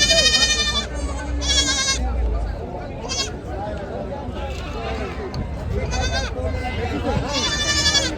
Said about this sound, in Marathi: पिल्लावाले शेळ्या आहेत इकडे.